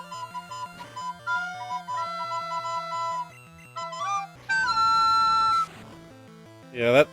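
Pokemon Yellow Legacy battle sounds during training: chiptune music with bleeping tones, a long sustained electronic buzz and a quick rising chirp, with a voice talking over parts of it.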